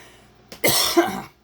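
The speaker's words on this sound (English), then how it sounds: "Excuse my coughing." A single man's cough, close and fairly loud, a short rough burst with a throaty rasp that trails off within about a second, preceded by a quick breath, no other sound around it.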